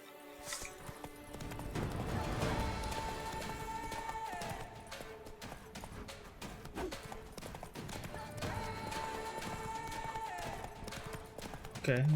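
Roach, a horse in the video game The Witcher 3: Blood and Wine, gallops with a steady, rapid clip-clop of hooves that runs through the whole stretch beneath continuous game music.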